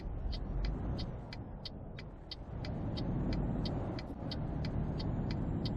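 Cars pass in Euro Truck Simulator 2 with a steady engine and road rumble. Sharp ticking clicks repeat at an even rate throughout, and no one speaks.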